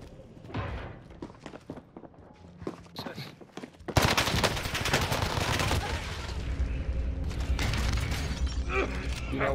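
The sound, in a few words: gunfire in video game Call of Duty on Rebirth Island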